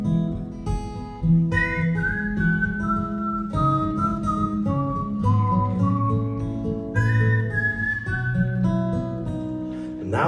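Someone whistles a melody with sliding notes over soft background music at a live concert, clear and near, with no speech.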